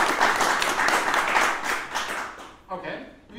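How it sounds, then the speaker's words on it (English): A conference audience applauds a talk on the ODF document format, a short burst of clapping that swells then fades after about two and a half seconds, followed by a speaker's voice. "applause for this feature."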